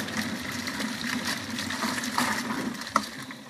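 Detailing wash mitts and a chamois being swished and rinsed in a bucket of water, continuous sloshing and gushing with a brief sharp splash near the end.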